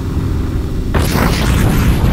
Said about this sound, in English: Did we get done by the explosion?